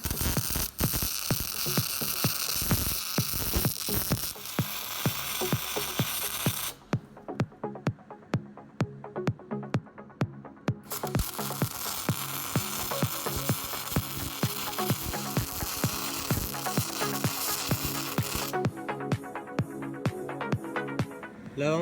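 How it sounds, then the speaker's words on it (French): Semi-automatic MIG welding on steel plates for a telehandler hitch: a close, steady crackling sizzle that breaks off for a few seconds mid-way, then resumes continuously to the end. "Donc maintenant j'ai juste à souder tout le tour."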